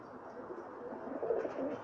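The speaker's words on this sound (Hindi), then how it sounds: "ये अभी उस्ताद जी के कबूतर दिखा रहे हैं हम आपको, सब बाजी वाले कबूतर हैं जी" Pakistani high-flyer pigeons coo softly nearby, a low murmuring burble that swells slightly toward the end.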